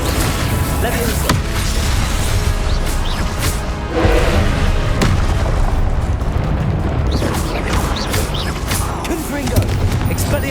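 Blasting Confringo spell explosions in Hogwarts Legacy go off amid a dense, loud roar of booms and crackling impacts that keeps going throughout, with a voice calling out spells over the noise.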